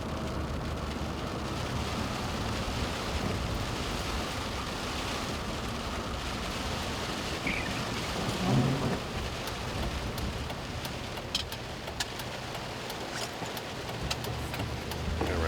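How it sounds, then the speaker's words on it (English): Steady rain from Hurricane Nicole in the Carolinas pattering on a surface, with a low rumble of thunder rising briefly midway, continuous and enveloping, no one speaking. "So the rain's coming down better."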